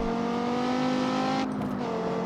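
Dodge Viper engine in the CarX Street racing game holding a steady, droning rev with strong harmonic tone, dipping briefly as the pitch shifts near the end.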